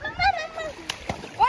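People splashing in cool, shallow water at a tourist bathing spot near Garjiya Mata temple in Ramnagar, Uttarakhand, with a few short splashes and voices chattering nearby.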